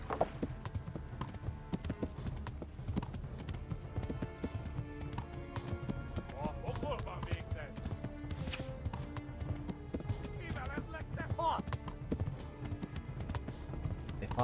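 Horse galloping in Kingdom Come: Deliverance, with rapid, steady hoofbeats running throughout beneath game music and faint ambient effects.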